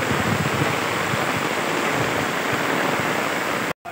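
Heavy torrential rain pours down steadily over farmland, a loud, dense, unbroken roar that stops abruptly for a moment near the end.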